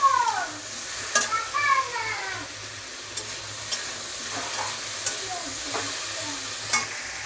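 Salt and turmeric stirred into a frying fish curry of small mourala fish with green banana and potato, a steady loud sizzle with scraping spoon strokes and sharp clinks against the pan.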